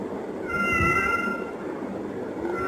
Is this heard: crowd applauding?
no